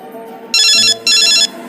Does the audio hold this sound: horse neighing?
no